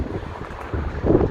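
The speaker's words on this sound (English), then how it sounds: "Sorry about the wind, guys, it's really windy" Gusty wind buffets the microphone outdoors, a steady low rumble that surges louder toward the end.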